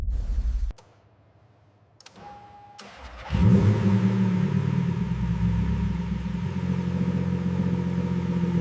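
A Bugatti Chiron engine catches after a brief click and a faint tone, then rumbles at a steady idle of about 850 rpm. The low, even drone sits close and alone.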